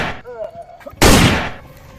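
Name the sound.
gunshots in a comedy film scene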